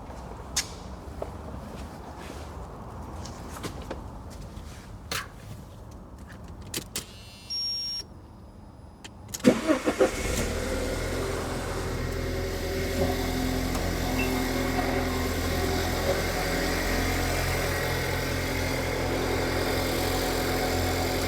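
A car engine cranks briefly and catches, then settles into a steady, loud idle that continues alone to the end, after some faint clicks and handling noises.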